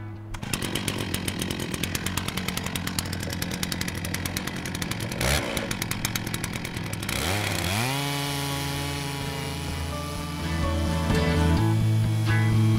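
Chainsaw cutting through a log mounted on a Logosol Smart Timberjig, loud and steady throughout, the engine pitch shifting partway as the bar works through the wood, then revving on alone.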